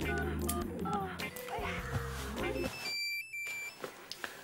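A telephone number being dialed, with a rapid run of tones and beeps under and between a speaking voice, ending in a few clearer sustained tones.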